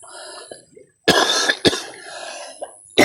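Coughing from a man who is unwell while hiking on Mount Maharlika: two loud, harsh coughs close to the microphone, with faint breathing and rustle between them and a third short cough at the end.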